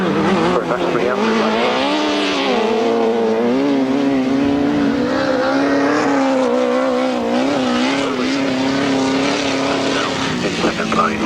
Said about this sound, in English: Dan Sidecars underway then, down the straight to come, and Justin Peach and Ian Weatherly make ano